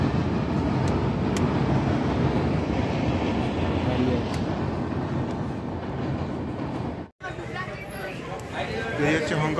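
A train rolls out onto a bridge on the way into Siliguri, a loud continuous rumbling roar close by that cuts off abruptly for a moment before a lighter, airier run resumes, with faint voices in the background.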